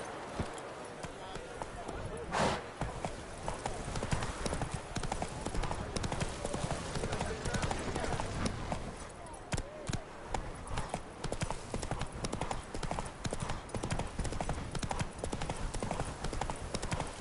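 Horse hooves clip-clop in a fast, steady gallop through The Witcher 3 video game, with a rhythmic pounding that runs throughout, close and fairly loud, alongside occasional game sounds.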